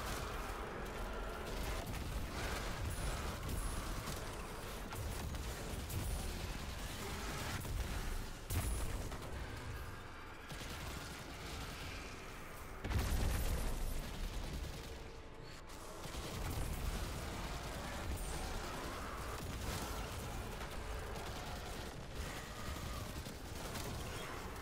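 Weapon fire in the game Destiny 2, steady rattling shots and mechanical clatter over a busy, dense game mix, moderately loud and continuous throughout.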